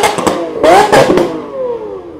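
A car at a Cars and Coffee meet revs loudly and close by in several sharp bursts with crackling pops, the engine note falling away as it settles.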